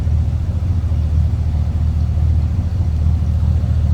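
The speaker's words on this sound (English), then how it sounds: "Just a nice sounding 302." A 1968 Ford Galaxie 500 four-door sedan with a 302 V8 and a mild, stock-style exhaust idles steadily nearby, giving a smooth, even low rumble throughout with no revving.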